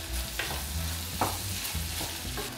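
A wooden spoon stirs shellfish shells and saffron sizzling in a paella pan, a steady close fry with soft scraping strokes repeating about every half second.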